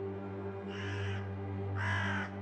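Two harsh crow caws, the second louder, over a steady low electronic hum, with no talking.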